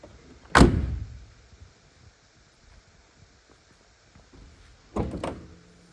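Hood of an aqua blue 1993 Chevrolet Corvette LT1 convertible is worked: a sharp metallic thunk and clunk near the start, quiet fiddling, then a second double clunk later, close and without talk.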